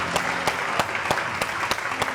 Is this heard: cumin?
no